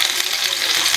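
BBQ meat cooks in a frying pan (kawali) with a dense, steady sizzle that fills the whole short moment up close, with no talking.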